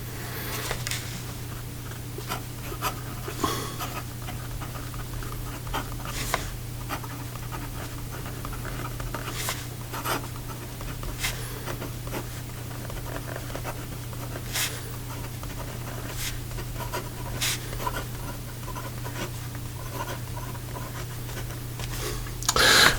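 A Visconti Voyager 30 fountain pen with an 18 karat gold nib writing on paper, giving faint, soft scratching strokes over a low steady hum in a quiet room, with no one talking.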